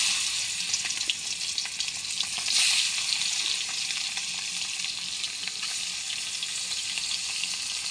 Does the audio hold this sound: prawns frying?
yes